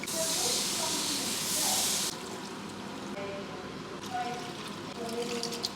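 Red wine and beef stock poured into a hot pan, giving a loud hissing splash and sizzle for about two seconds that then settles into a quieter bubbling simmer with a few faint clinks.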